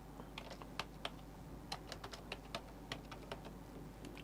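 Typing on a computer keyboard, a quiet run of irregular key clicks with a few sharper taps, alone over a low steady hum.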